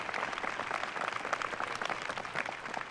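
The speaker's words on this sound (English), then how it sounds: "Give her a big round of applause" Graduation audience giving a round of applause for the school's graduation advisor, a steady, dense wash of many hands clapping in a large hall, sustained throughout with no talk.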